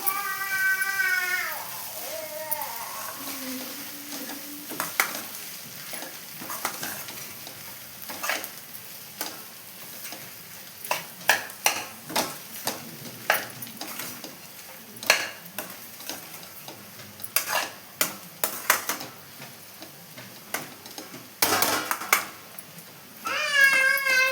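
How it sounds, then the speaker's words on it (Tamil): A spoon scrapes and stirs potato masala for poori in a pan, making repeated close clicks and scrapes with a soft sizzle underneath and no talk. "இப்போ இதை நல்லா கலந்து விட்டுக்கலாம்."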